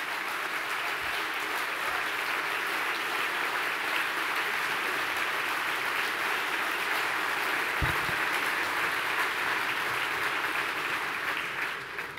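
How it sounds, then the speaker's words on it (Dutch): Party congress audience gives warm, sustained applause for the prime minister as he is introduced, a dense, even wash of clapping that continues steadily before tapering slightly at the end. "Geef hem een warm applaus"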